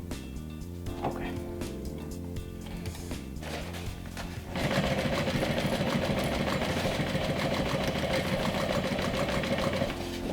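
A domestic sewing machine sews slowly along a backpack curve, starting with light fabric handling and quiet sounds, then settling into a steady, moderately loud mechanical hum from midway on.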